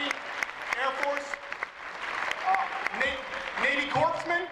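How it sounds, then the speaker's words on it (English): Applause for military veterans in the audience at a comedy show, a crowd clapping steadily throughout with cheers and voices mixed in, moderately loud and continuous. "give them a round of applause"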